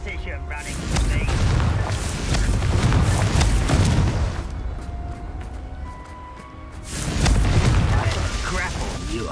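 The Confringo blasting spell in Hogwarts Legacy sets off deep, rumbling booms that swell and linger, first from the start and again near the end, with a short quieter stretch between them and no talk.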